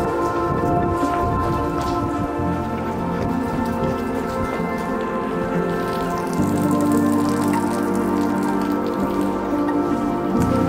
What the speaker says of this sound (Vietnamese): thì giống như một ngày mưa thôi, rất là ướt át nha các bạn. Mà lần này thì nó gió hơn xíu.